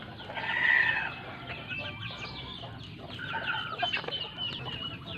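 Farm chickens, including grower birds, cluck and call continuously at close range during feeding, with overlapping bursts of clucking and a louder squawk near the start.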